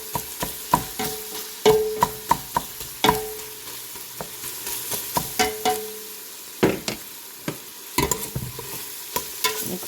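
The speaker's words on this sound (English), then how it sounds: "It kind of breaks the meat up." Ground meat for Zuppa Toscana being broken up with a masher in a hot pan, with repeated sharp scraping clacks in an uneven rhythm over a soft sizzle.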